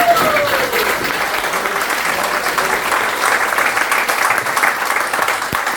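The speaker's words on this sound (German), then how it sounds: "Erstmal Applaus für den, der den Auftritt gerettet hat" Steady, dense applause from an audience at a live evening reading and lecture, filling the room loudly and evenly throughout without a break.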